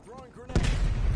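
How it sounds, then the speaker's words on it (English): Grenade blast in Call of Duty Cold War, a single deep boom landing about halfway through and rumbling on to the end, preceded by brief voiced callouts. "Throwing grenade."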